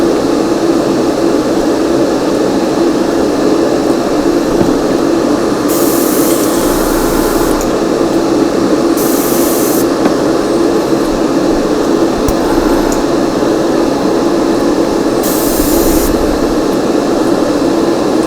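Steady, continuous hiss of an airbrush spraying red paint onto a model NYC apartment terrain piece, with short louder bursts of spray standing out over the constant airflow.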